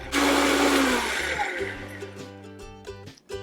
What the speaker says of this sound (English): And now I'm just gonna blend this up until it's really